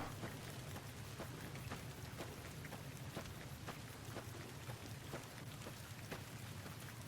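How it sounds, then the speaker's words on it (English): Rain falls in a video game world as a faint, steady patter with soft, regularly scattered droplet taps and a low rumbling undertone, and no one talks over it. "It keeps raining here."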